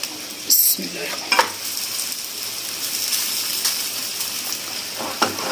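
Jaggery paratha sizzling steadily in ghee on a hot griddle, with a few brief scraping clatters as it is turned and flipped, close and fairly loud with no talking.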